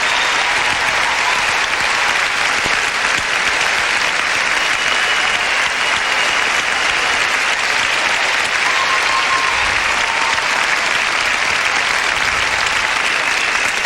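An arena crowd at a 1996 figure skating championship applauds a skater with dense, loud, continuous clapping that fills the full fourteen seconds without letting up, and no clear voice rises above it.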